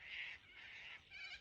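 Cockatoos calling from trees on a foggy hillside near Khancoban: three harsh, drawn-out screeches in a row, fairly faint and distant, with no talk over them.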